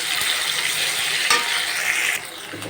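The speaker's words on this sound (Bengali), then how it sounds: "রসুনটা একটু ভাজা হবে" Garlic paste fries in a pan with a loud, dense, continuous sizzle, broken by the faint scrape of a stirring utensil, easing slightly near the end.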